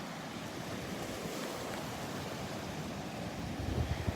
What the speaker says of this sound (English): A bit on the breezy side, the wind coming out of the northwest.